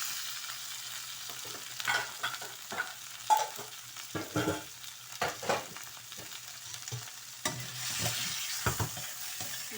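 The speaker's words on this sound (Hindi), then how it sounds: "अभी इसी ऑयल में मैं आलू फ्राई करने लगी हूँ" Marinated potatoes frying in oil for biryani, a close, steady sizzle broken by repeated scraping stirs and clinks of a spoon, no voices.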